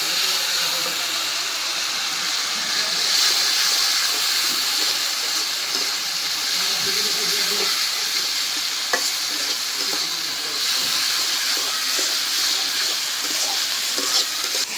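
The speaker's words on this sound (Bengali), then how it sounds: "এই যে দেখেন কত সুন্দর করে মাছটা ভুনে নিলাম" Fried taki fish sizzles with spices in a pan while being stirred, a steady loud hiss and crackle with occasional scraping of the spoon, continuous throughout with no talking.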